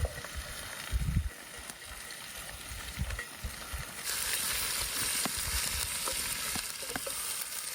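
Salo (pork fat) sizzling and crackling in a pan, a steady fizzing hiss with scattered pops and stirring knocks, growing louder partway through, with no voices.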